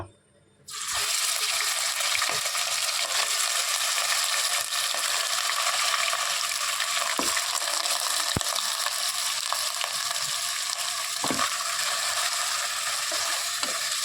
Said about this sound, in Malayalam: നമുക്ക് ഈ എണ്ണയിലിട്ട് നന്നായി വഴക്കിയെടുത്ത്